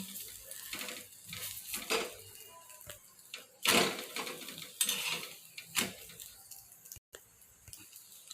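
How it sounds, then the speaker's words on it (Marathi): A paratha roasting in oil on a pan, a quiet sizzle broken by irregular clatters of a spatula against the pan and a few louder scrapes. "बाजूने तेल लावून घ्यायचं आणि चांगलं खरपूस होईपर्यंत भाजून घ्यायचा"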